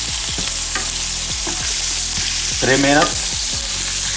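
Oxtail pieces searing in a pan over high heat, a loud, dense, continuous sizzle up close, with a few brief spoken words over it.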